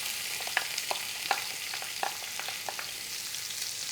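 Two diced large onions fry in a pan for a Greek beef and orzo casserole, with a steady close sizzle broken by light stirring clicks and pops, no talk.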